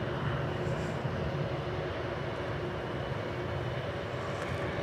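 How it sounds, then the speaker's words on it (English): An Air Canada jet airliner lining up on a runway at Dallas Fort Worth airport, its engines giving a steady, broad roar that stays level throughout with no voices. "this Air Canada plane is lining up to take off to Toronto"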